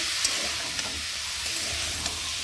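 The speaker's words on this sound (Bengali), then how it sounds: "আমার সয়াবিন আলু কষানো হয়ে গেছে দেখতে পাচ্ছ একটু ভাজা ভাজা মতো হয়ে গেছে" Soybean chunks and potato sizzle steadily while being sautéed and stirred in a pan during home cooking, with a constant frying hiss and a few faint stirring clicks, no talk.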